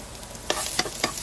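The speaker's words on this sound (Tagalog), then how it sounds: "habang inigisa natin ang bawang at sibuyas guys, halu-hiluin lang natin yan hanggang sa lumabas ang aroma ng bawang" Garlic and onion sautéing in a pan, a steady low sizzle with three distinct scraping stirs of a utensil against the pan, close and without talk.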